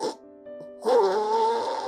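Heavy snoring from a sleeper with a blocked airway, one labored rasping breath building after a quiet pause, loud and close with a strained tonal wheeze.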